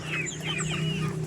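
Backyard chickens cluck close by before feeding, a busy overlapping chorus of short clucks and soft calls above a steady low hum.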